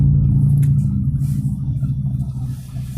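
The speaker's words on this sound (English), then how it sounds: "I'm hearing vehicles passing me, and we're already going at the posted speed limit out here." Vehicles pass a truck quickly on the road while it holds the posted speed limit. A steady, loud low rumble of road and engine noise fills the cab.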